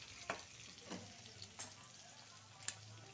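Pointed gourd pieces fried red in oil sizzle faintly and steadily, with a few light clicks from stirring, close and quiet.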